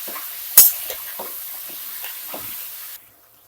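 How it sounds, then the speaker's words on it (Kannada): Mutton boti pieces fry in hot oil with a steady close sizzle, broken by several scraping stirs and one sharp clatter early on, before the sound cuts off abruptly near the end. "ಎಣ್ಣೆಯಲ್ಲಿ ಒಂದು 5 ನಿಮಿಷ ಚೆನ್ನಾಗಿ ಫ್ರೈ ಮಾಡ್ಕೊಳ್ಳಿ."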